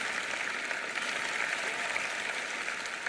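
Steady audience applause during a church sermon, a continuous even wash of clapping from a large congregation at moderate level, with no voices standing out.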